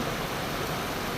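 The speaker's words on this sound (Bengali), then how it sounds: "প্রচণ্ড বৃষ্টি হইতেছে" Heavy rain falls in a hilly, cool town of Abha, Saudi Arabia, a steady broadband hiss of downpour throughout, continuous and fairly loud with no voices.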